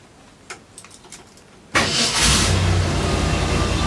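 A 1966 Ford Thunderbird engine cranks and catches abruptly after a quiet stretch of faint clicks, then settles into a loud, steady idle close to the microphone.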